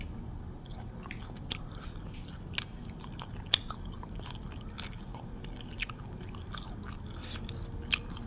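Close-up eating of grilled rat with spicy cucumber salad: crisp bites and wet chewing with scattered crunches and a few sharper snaps, no talking.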